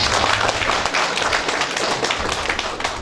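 A community forum audience in Yangdong-myeon, Yangpyeong County, gives hearty applause, a loud, dense, continuous clatter of many hands clapping at once for about three seconds.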